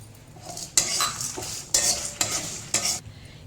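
Cut chillies frying in a pan with other spices while being stirred: soft sizzle broken by several sharp scraping and clinking strokes of a spatula against the pan, close, no talking.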